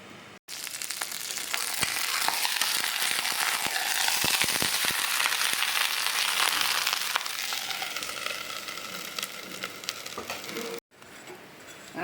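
Adai dosa, a thick multi-dal batter cooked with plenty of oil, fries under a lid in a covered pan, giving a loud, steady sizzle with fine crackling that fills the whole stretch, briefly cut near the start and end.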